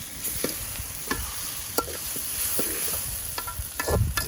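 Ginger garlic paste fries with onion and tomato in a pan for a squid masala gravy, a steady sizzle broken by scattered scraping stirs and clinks, close and fairly loud with no talking.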